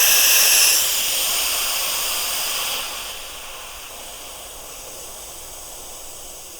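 Air hisses steadily out of an electric unicycle tire tube through its valve, a loud broadband rush that weakens in stages as the pressure drops, with no talk.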